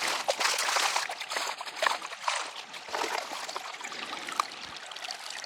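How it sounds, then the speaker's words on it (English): Water rushes steadily through a very large gold-prospecting sluice box, a continuous broadband wash with some splashing and gravel movement, close and fairly loud throughout. "Because I'm only putting one shovel at a time down that sluice box, right?"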